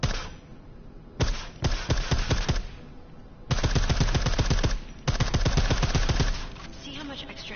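Suppressed gunfire in a video game: rapid bursts of muffled automatic shots in several clusters, punchy and close, separated by short pauses.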